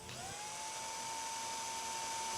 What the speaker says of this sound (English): Locate and drill the airfoil and wood plug for screws.